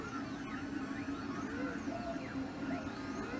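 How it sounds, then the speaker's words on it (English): Several Lulzbot TAZ 6 fused filament 3D printers run together in a lab, a steady mechanical hum with faint whining stepper-motor tones rising and falling continuously. "we have a variety of printers here who are essentially printing these halos in a two-up format"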